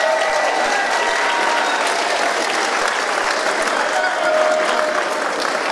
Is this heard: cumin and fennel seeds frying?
no